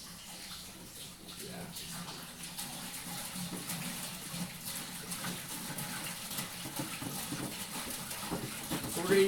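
Water poured from gallon jugs into a brewing kettle during a home brew day, a steady gushing pour running continuously at close range with some voices in the background.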